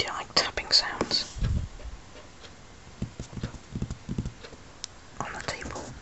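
Fingers tap on a table in scattered, close, crisp bursts, mixed with soft whispering. The taps come in uneven clusters with quiet gaps between them.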